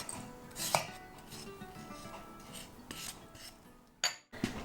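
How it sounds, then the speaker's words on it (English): Nankhatai biscuit dough is worked with a wooden spoon in a bowl, producing quiet irregular scrapes, soft thuds and a few clinks against the bowl, close by and faint, with a sharper knock near the end. "to mix in the remaining ingredients and then stir it with a wooden spoon."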